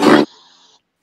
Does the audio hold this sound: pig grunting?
yes